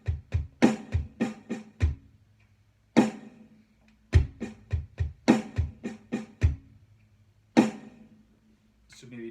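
A snare drum plays paradiddle patterns: loud accented hits mixed with soft ghost notes in quick sticking bursts, with short pauses between phrases, close and alone.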